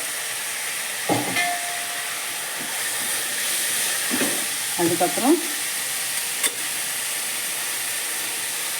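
Ginger, garlic and green chili paste sautéing in a hot pan while making veg cutlets, with a steady soft sizzle and a few stirring scrapes, one short word spoken over it.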